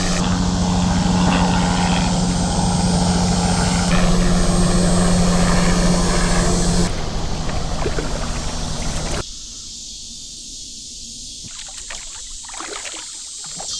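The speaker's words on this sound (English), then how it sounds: "There's that helicopter again." A helicopter flies overhead above Crystal River in Florida, heard from a kayak as a loud, steady droning hum with a low tone that thins out and weakens toward the end.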